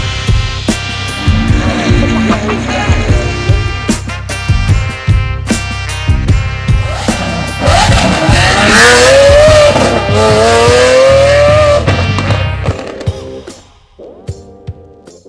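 A Lamborghini Revuelto fitted with a Gintani exhaust roars loudly up close in Miami, with repeated revs and rising engine sweeps, a brief squeal-like edge, then a quieter idle at the end.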